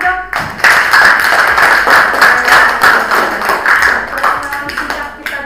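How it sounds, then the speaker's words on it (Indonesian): A room full of people claps at a school student council candidates' speech, a dense burst of applause that carries steadily for several seconds before tapering off. "Oke, tepuk tangan dong."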